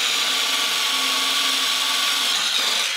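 A power drill bores a hole with a drill bit, giving a steady, loud, high whirring grind that runs unbroken for about three seconds, with no talk.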